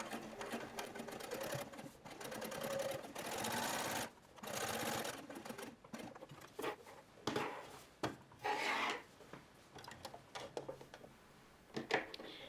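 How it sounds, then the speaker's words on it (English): Sewing machine stitching up and around the lapels of a shirtwaister dress, running in bursts of steady needle chatter broken by short pauses and some handling rubs. "So I'm now stitching up and around the lapels."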